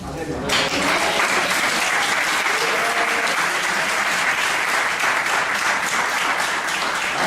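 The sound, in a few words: applause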